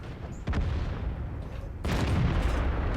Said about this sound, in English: Yep, there's the artillery.